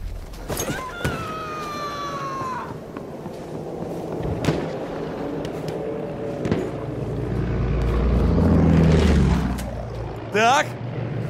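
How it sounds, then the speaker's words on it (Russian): An enemy patrol boat engine in the Battlefield 1 video game, a low motor rumble swelling louder toward the end amid game voices, whooshes and sharp battle effects. "Это катер!"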